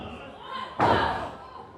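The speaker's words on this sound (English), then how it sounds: "Slammed down into that corner" A wrestler is slammed down into the ring corner at a women's wrestling show in the Berwyn Eagles Club, landing as one sharp, loud impact that crashes in and then fades slowly, with a commentator talking underneath.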